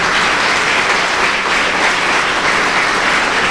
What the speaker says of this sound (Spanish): Aplauda al Señor entonces.